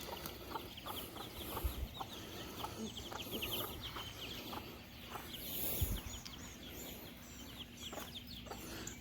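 Several free-range chickens cluck and murmur softly nearby outdoors, with scattered calls and faint background noise.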